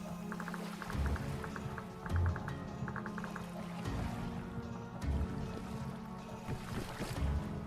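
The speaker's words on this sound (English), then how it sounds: "it's just still technically raining" Steady rain patters in the survival video game Vintage Story, with soft wind and faint repeated ticks, a low even wash of weather sound with no talking.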